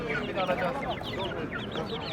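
A crowd of poultry, including Ispenç chicks, clucks and chatters continuously at close range at a Kırıkkale market, busy overlapping calls with some honking mixed in, with people talking in the background.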